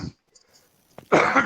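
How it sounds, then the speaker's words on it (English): A single harsh cough bursts out near the end after a brief short rasp, close and loud against a quiet background. "that's a healthy cough"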